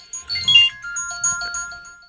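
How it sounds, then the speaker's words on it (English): A phone rings unexpectedly in a podcast studio, a bright electronic ringtone pattern of repeating high tones lasting about two seconds, fairly loud and close, with no voices over it. "Who didn't turn off their phone?"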